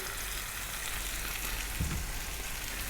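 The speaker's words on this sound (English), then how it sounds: "We're now going to get our fresh tomatoes and drop them in." Fresh juicy tomatoes frying in a pan as a sauce for salami pasta give a steady, dense sizzle close up, with one brief low thump partway through and no talking.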